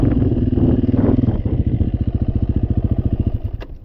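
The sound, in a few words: motorcycle engine during wheelie demonstration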